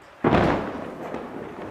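A single sudden thunder-like boom used as a sound effect, a deep rumbling blast that swells quickly and then fades into a lingering low roll.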